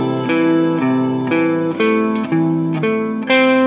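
An electric guitar with a distorted tone plays a quick minor triad run: a rising and falling chain of about eight sustained notes, each one changing cleanly into the next, loud and close.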